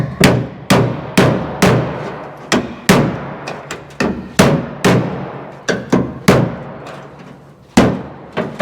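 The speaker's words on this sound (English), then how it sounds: "We're going to use this little dimple die right here." A dimple die is struck to form sheet metal on a car body, giving a series of sharp, loud metallic blows spaced irregularly, each ringing briefly before fading.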